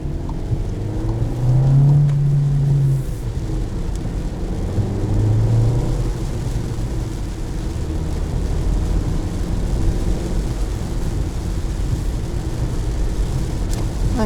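A manual 2020 VW Jetta accelerates through its gears, its engine a steady low drone with a couple of rising rev swells early on, continuous and moderately loud inside the cabin.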